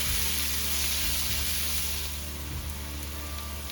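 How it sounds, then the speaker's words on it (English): Onions fry in a pan for a pumpkin curry, a steady dense sizzle with soft stirring movements beneath it, close and continuous with no talking. "stir this through until you have a nice light brown on your onions"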